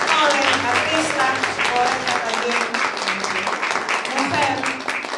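Audience applause for a young Arequipa artist and poet at a book launch during an international women writers' gathering, dense steady clapping throughout with some voices mixed in.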